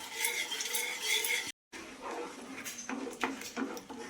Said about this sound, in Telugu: మధ్యలో నెయ్యి వేసుకుంటూ మనం కలుపుతూ ఉండాలి